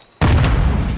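A Semtex grenade goes off in a Call of Duty: Modern Warfare II team deathmatch: one sudden, loud, close blast after a brief near-silence, followed by a heavy rumbling decay.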